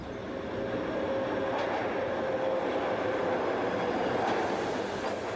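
A steel-wheeled subway train rumbles steadily through a tunnel, a continuous loud roar of wheels on track with faint metallic squeals.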